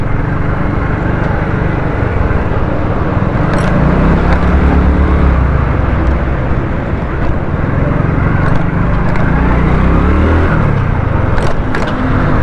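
A motorcycle rides along a busy service road near Water Pump Chowrangi on a winter morning, its engine droning loud and steady amid surrounding traffic rumble, with occasional brief horn blips.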